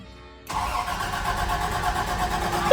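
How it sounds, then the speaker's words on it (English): An old Toyota Land Cruiser running on LPG cranks briefly and then catches, settling into a steady, close engine idle that runs alone to the end. "it's turning over. Yeah, it's turning over nice too"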